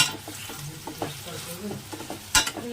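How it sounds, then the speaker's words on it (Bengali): Potatoes fry in a pan at home with a soft sizzle, broken by light stirring scrapes and a sharp utensil clank near the end. "নুন আলু দিয়ে ভাজা করতে বসিয়ে দিয়ে"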